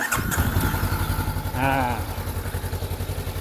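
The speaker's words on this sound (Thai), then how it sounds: "ลองเบิ้ลให้ฟังเสียงเครื่องนะครับ" A 2020 Honda CB500X motorcycle engine runs with a steady pulsing idle, briefly revving up once before settling back down, fairly close and even.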